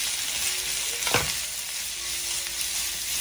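Halved onion and cut cabbage frying in a pan, a continuous bright sizzle with a brief clatter of a spoon stirring, close and steady, no talking.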